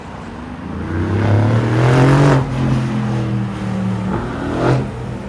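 A car engine revs up and down loudly on a Warsaw street, then another vehicle roars past, with the engine note rising and falling.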